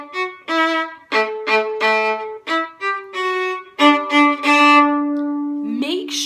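A bowed violin phrase of about eight notes, some short and sharply attacked with up-bow accents, others sustained, played close and clear with no talking.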